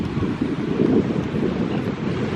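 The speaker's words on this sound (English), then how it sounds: "Very windy." Strong, steady wind on a beach at Oak Island, North Carolina roars and buffets the microphone, with a low rumbling rush that may include surf; no voices.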